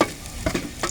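Squid sautéing in a pan with ginger and chili: short bursts of stirring and sizzling close by, three distinct scrapes and spatters over a low frying hiss, no talk.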